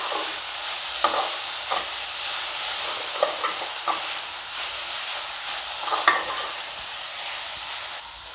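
Moringa leaves fry in oil in a pan with a constant soft sizzle. Irregular scraping strokes of a spatula come through up close as the leaves are turned and mixed.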